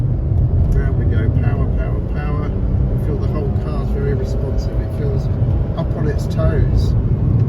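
Old automatic car driven fast through a corner, engine note dropping under braking then rising as power comes back on, loud and continuous with heavy road and wind rumble beneath.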